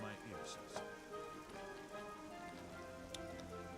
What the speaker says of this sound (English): It's raining again, but we don't care.